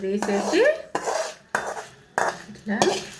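A metal spoon or ladle scrapes fried pieces out of a frying pan in four or five short, clattering scoops with brief pauses between them, close and fairly loud.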